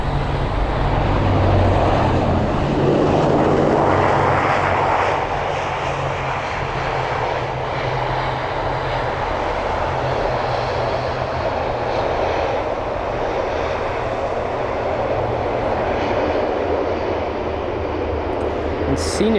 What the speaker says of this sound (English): And seeing as how low to the ground this ATR 42 is, you know, it's really difficult for the pilots to flare.